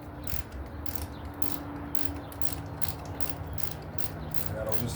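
Steady ratchet clicking at close range as 13 mm tensioner bolts are loosened beneath the engine of a 2006 Chrysler 300 3.5, a continuous rhythmic pawl chatter over a low background hum.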